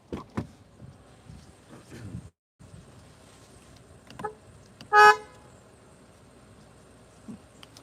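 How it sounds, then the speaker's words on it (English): A single short toot of a 2023 Rolls-Royce Phantom horn sounds sharply over quiet rustling and faint background noise, with a few clicks before and after. "Like that horn sounds fancy."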